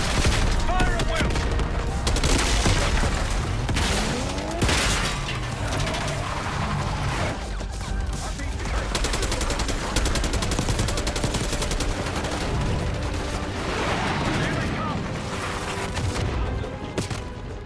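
Heavy gunfire rattles through a Call of Duty Black Ops 6 battle, with rapid automatic bursts, scattered single shots and booms layered densely and loudly across the whole stretch, faint voices mixed beneath.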